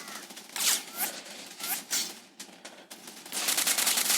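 Gunfire in a shooting video game, with rapid bursts of automatic shots in clustered volleys that rise and fall, fairly close and continuous.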